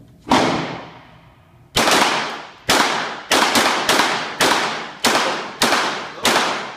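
Gunshots ring out at a bowling pin shooting match on a range, nine loud sharp reports with long echoing decays, the first alone, then a rapid string of closely spaced shots.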